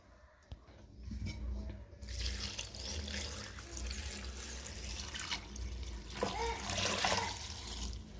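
Water pours and splashes steadily into a cooking pot holding tamarind, a continuous running gush close by, growing slightly louder near the end.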